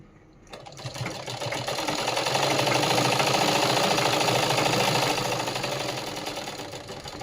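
Sewing machine stitching the hook strip on a princess-cut blouse, running as a loud, steady continuous whir that ramps up after a brief quiet start and holds for several seconds.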